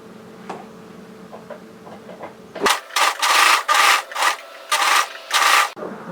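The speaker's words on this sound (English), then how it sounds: "My overlocker doesn't like this." Overlocker serger sewing machine stitching hoodie fabric, running in about six loud, rapid bursts of mechanical whirring separated by short pauses, preceded by quiet handling noises.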